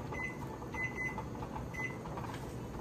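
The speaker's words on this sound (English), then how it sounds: "I'm gonna turn my timer on." A kitchen timer chirps in a few short, sparse electronic beeps while muscadine jelly boils with pectin, set against a steady background hum of the kitchen.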